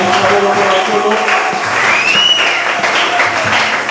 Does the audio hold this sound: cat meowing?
no